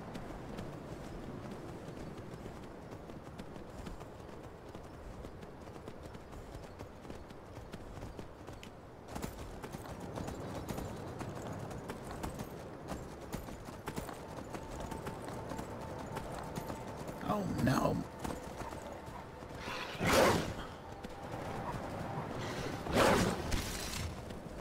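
Horses gallop in the video game Skyrim, a steady clip-clop of hooves over ambient game sound that grows louder, with a few sharp impacts near the end.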